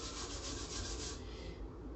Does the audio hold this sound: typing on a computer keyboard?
no